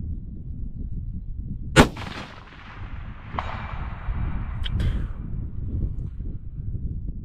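A single sharp rifle report from a .25 Creedmoor aimed at a steel plate, fired outdoors, with a faint ring and a quieter secondary clang and knocks following amid low background rumble.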